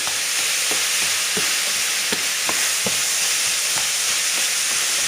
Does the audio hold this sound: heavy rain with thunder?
no